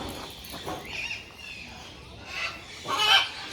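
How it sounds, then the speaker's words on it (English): Peacock calling among other birds, with loud, harsh honking cries rising near the end over ongoing bird and background noise; faint talk is present. "that's a peacock."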